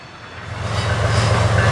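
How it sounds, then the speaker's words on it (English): A freight train arriving at Fostoria, Ohio, its low rumble and wheel noise building steadily and growing louder over a short stretch. "It took only minutes at Fostoria until the first train showed up"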